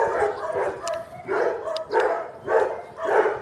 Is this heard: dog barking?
yes